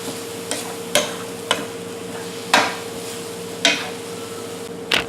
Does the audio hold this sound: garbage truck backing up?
no